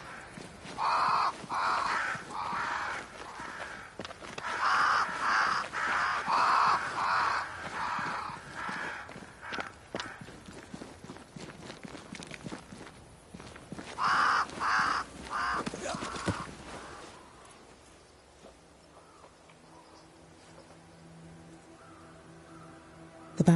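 A flock of crows caws loudly in repeated harsh bursts around a great tree in the video game Banishers: Ghosts of New Eden, then falls quiet, leaving faint ambient background.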